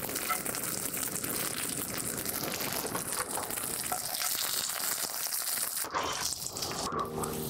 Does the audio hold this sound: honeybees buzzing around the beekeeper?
no